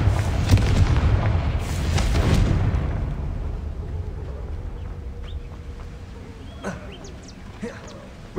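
Confringo fire spell blasts in Hogwarts Legacy: loud booming explosions crowd the first few seconds, then die down to a softer rumbling tail with faint scattered crackles.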